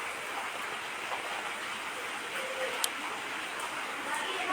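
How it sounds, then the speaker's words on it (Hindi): Heavy rain falls in Lucknow as a steady, dense hiss with a few sharper drops, fairly soft and continuous throughout. "यह देखो हमारे यहाँ बारिश हो रही है।"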